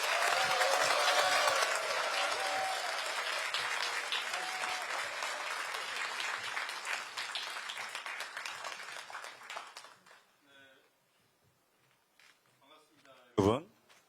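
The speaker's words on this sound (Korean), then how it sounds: "모두 큰 박수로 맞이해 주시길 바랍니다." An audience at an indoor book concert event applauds a speaker and host onto the stage, a dense, sustained burst of clapping that gradually thins out and fades, followed by faint scattered voices.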